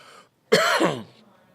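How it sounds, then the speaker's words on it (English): A single person clears their throat harshly at close range, with a rough, phlegmy cough that trails off into quiet. "Now I'm in the process where I'm coughing up that phlegm on my chest"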